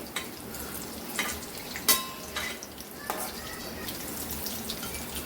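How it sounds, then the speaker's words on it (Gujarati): Sabudana vada fry in hot oil with a soft, steady sizzle and crackle, moderately quiet, broken by a few sharper pops and spatters across the few seconds, with no voices. "વડાનો ગોલ્ડન બ્રાઉન કલર આવે ત્યાં સુધી આપણે એને તળવાના છે"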